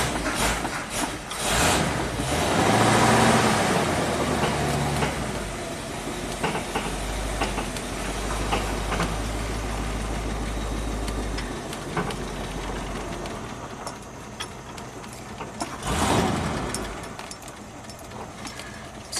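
A 1969 Ford Mustang Mach 1, long left sitting, idles in reverse with a low, steady V8 rumble, rising briefly with a couple of louder revs and mechanical clatter.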